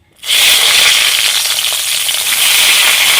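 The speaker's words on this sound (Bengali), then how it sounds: "বেগুনটা আগে ভেজে নিচ্ছি" Eggplant pieces dropped into hot oil in a village kitchen set off a loud, steady, close sizzle that starts abruptly and keeps up a dense crackling hiss throughout.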